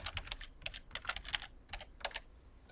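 Typing on a computer keyboard, a quiet run of quick irregular key clicks in short bursts, close and alone with no talk.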